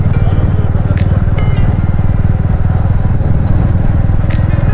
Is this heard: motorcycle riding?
yes